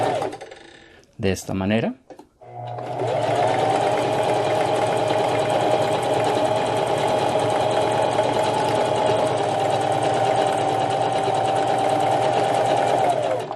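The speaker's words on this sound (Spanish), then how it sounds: "Empezamos a coser desde afuera." A domestic sewing machine stitches quilt fabric in a long, even, continuous whir close to the listener, starting after a brief spoken phrase and running steadily for about eleven seconds.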